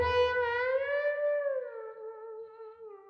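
Slide guitar melody on electric guitar, a single long gliding note that bends downward and wavers with vibrato, sustained and fading, close and alone.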